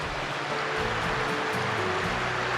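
A river in Peru at a crossing point rushes in a constant, full-bodied wash of flowing water, close and loud, with a faint low engine-like drone mixed in.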